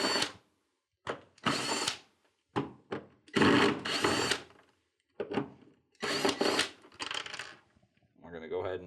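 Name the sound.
power drill removing screws from an ice dispenser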